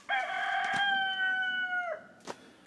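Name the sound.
rooster crowing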